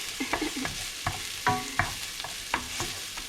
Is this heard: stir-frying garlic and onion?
yes